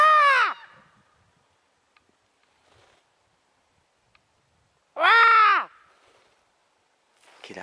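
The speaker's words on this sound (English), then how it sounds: "Listen to this bird" A crow under a bridge at Old Woman Bay gives two loud, harsh caws separated by a long quiet pause, with the start of a third call at the end.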